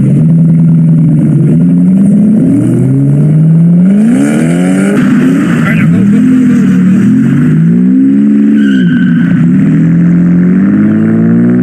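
Cars pass close by at night, their loud engines revving with rising and falling pitch as they go past, one after another, with no talking.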